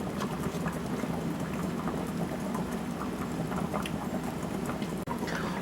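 Blackberries with raw honey and fruit pectin simmer in a pot, giving a steady close bubbling and popping patter with no talking.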